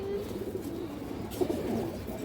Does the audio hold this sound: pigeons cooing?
yes